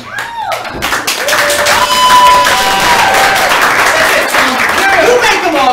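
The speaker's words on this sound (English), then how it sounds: "You make them all clap." Loud, dense applause and clapping from a live improv comedy theater audience, sustained throughout with crowd cheering and voices mixed in.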